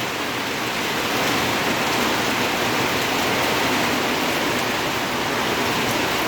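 Rain falls as a dense, even, continuous patter and hiss, loud and unchanging throughout, with no voices.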